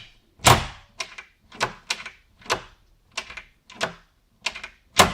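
Lubricated interior door handle worked repeatedly, about eight crisp clicking latch snaps at an uneven rhythm, close and clear with no squeak and silence in between.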